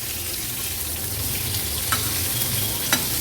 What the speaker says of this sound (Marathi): आता आपण एक एक करून बोंबील पलटून घेऊया